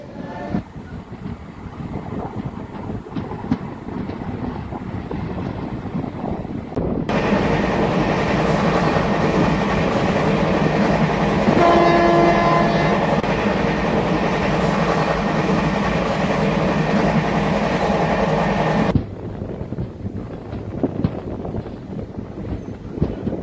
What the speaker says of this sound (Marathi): 8:25 धाराशिव रेल्वे स्टेशनवरून आपली ट्रेन निघालेली आहे